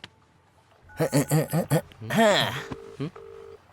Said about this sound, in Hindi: ए, रिंग जा रही है।